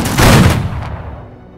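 A volley of rifle gunfire fired on command at a regiment's anniversary gathering, one loud, sharp crack that rings out and fades over about a second, heard alone.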